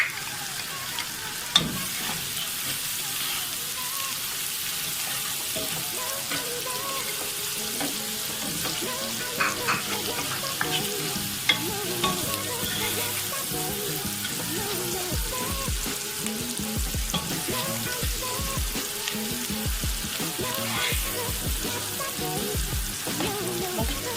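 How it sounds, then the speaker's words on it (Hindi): Carrots and capsicum sauté in a pan with a continuous sizzle and frequent stirring scrapes and clinks, close and steady throughout, with no one speaking. "हम इसमें शिमला मिर्च को भी सौते करेंगे।"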